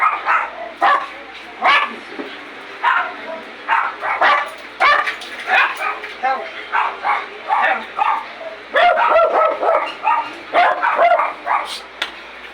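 A dog barks loudly and repeatedly nearby at people passing by, mixing barks with yips and whimpers, and a person's voice is heard among them.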